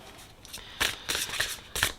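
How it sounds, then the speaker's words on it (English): A pile of tarot cards is shuffled by hand, giving several quick, close, crisp riffling bursts in an uneven rhythm over about two seconds. "Okay, so this is the pile I'm shuffling"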